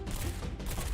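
SMG fire in the mobile game Girls' Frontline, a dense burst of rapid shots rattling continuously at a steady level with no speech over it.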